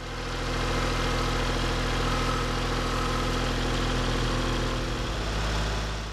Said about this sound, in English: I decide to see how much debris I can remove with the backhoe